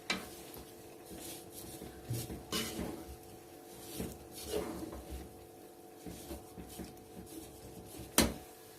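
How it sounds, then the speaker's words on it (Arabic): A spoon scrapes and knocks against a pan while kunafa dough is stirred and turned over, giving soft, irregular scraping and clinking strokes at a low, close level. "وابدا ان انا اقلب فيها"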